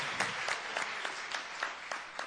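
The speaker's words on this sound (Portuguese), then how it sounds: "uma salva de palmas para Cristo" A church congregation claps steadily for Christ during a worship service, a continuous moderately loud wash of many hands with no speech over it.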